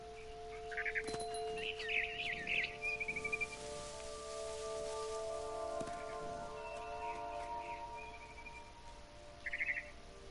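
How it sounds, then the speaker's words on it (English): A barn swallow near its nest chirps in repeated bursts of rapid high twitter, spread across the scene in What Remains of Edith Finch, moderately close over soft sustained tones and ambient hiss. "Then I heard chirping outside my window. It was a barn swallow going back to her nest."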